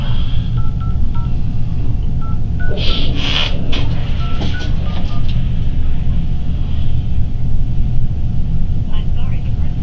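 A phone call is placed over a constant background rumble, with a short series of dial tones followed by a brief ringing burst, close and clear.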